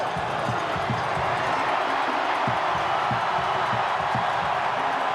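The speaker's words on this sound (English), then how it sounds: "You can hardly hear the siren for the crowd noise." Roaring crowd cheering throughout at Eden Park during the Blues vs Chiefs Super Rugby Pacific grand final, a dense steady noise with scattered whoops and claps, with commentators talking faintly underneath.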